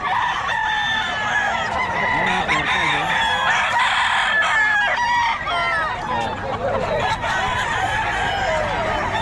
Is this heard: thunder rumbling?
no